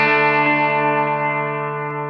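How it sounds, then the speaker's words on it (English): A single sustained guitar note through a Line 6 POD Go rings out, smeared by a big delay effect whose echoes linger and slowly decay. "Here's the big delay."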